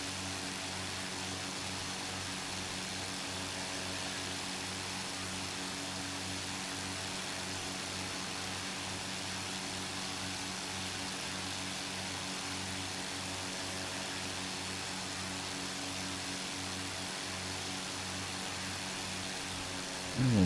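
Tiger Moth biplane engine in Microsoft Flight Simulator, a steady droning propeller hum with even rhythmic throbbing that holds for the full stretch, ending in a brief rise.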